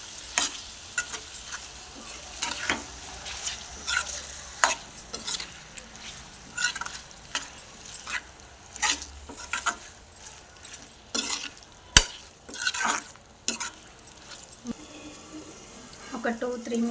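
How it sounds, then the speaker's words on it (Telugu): Egg junnu curry being mixed in a pan, with irregular clinks and scrapes of a spoon against the pan over a soft background, alongside faint voices. "అది ఇందులో వేసి మంచిగా మిక్స్ చేయాలి"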